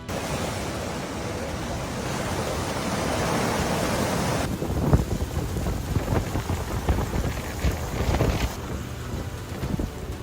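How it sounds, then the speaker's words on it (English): Heavy rain from the remnants of Storm Debbie pours in a dense, steady hiss while thunder rumbles and cracks, the downpour loud and continuous throughout. "Heavy rain from the remnants of Storm Debbie caused drains to overflow"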